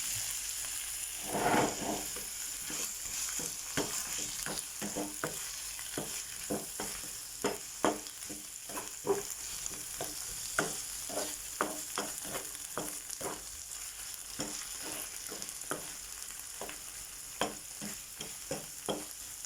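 Eggplant frying in a pan and being stirred, a continuous hiss of sizzling oil broken by frequent sharp scraping strokes of a utensil, close and steady with no talking.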